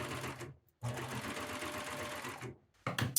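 Close up, a cover stitch sewing machine stitches sleeve seams on a knit top in two fast bursts. Rapid rhythmic needle clatter is broken by a short pause, and a brief click follows at the end.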